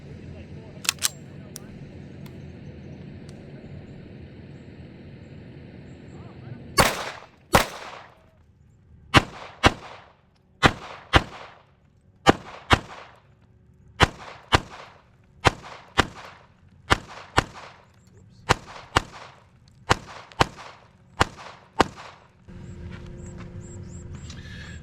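Series of SIG pistol gunshots at a shooting range, fired one at a time in an uneven string of about sixteen sharp, loud cracks, some in close pairs, with quiet range ambience between them.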